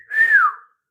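A pet cockatiel gives a single clear whistle, close and loud, a smooth tone that rises slightly and then slides downward over about half a second before silence.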